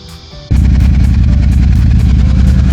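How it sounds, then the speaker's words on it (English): A Royal Enfield Super Meteor 650 twin with a Rhino Racing exhaust fires up after a brief starter whir and settles into a loud, deep, steady idle close to the microphone. "no doubt hear by now, that is the Rhino Racing exhaust system put on now on both sides"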